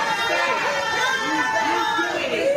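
A crowd gathered outside a courthouse as Sean Diddy Combs' mother emerged after a verdict, a steady close hubbub of overlapping voices and chatter with no single voice standing out.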